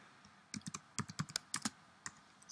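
Quick bursts of close typing on a computer keyboard while working in the VI editor, about a dozen crisp keystrokes in an irregular rhythm with no talk.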